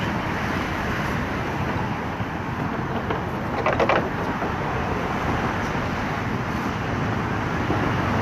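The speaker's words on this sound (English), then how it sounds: "Probably can't hear any of this, go with the noise of the traffic." Steady roadway traffic on the Brooklyn Bridge in New York forms a loud, continuous roar with wind buffeting the microphone, and a brief rattling passes near the middle.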